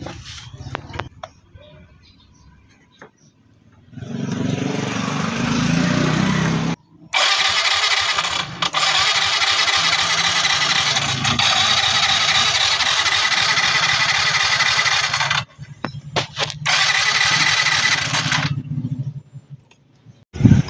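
A Mio i 125 motorcycle engine cranks without starting: long loud whirring starter bursts of several seconds each, separated by brief pauses, close by, following a quieter opening with faint voice.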